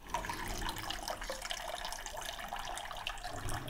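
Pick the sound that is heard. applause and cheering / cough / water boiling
water boiling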